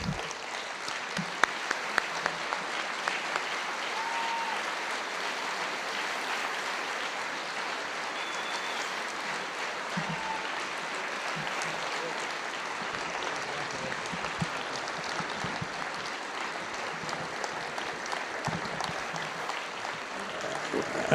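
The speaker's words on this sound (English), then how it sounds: "we can give them a big round of applause for all their work" A large audience claps steadily and continuously, a dense wash of applause that holds for the full length without pause.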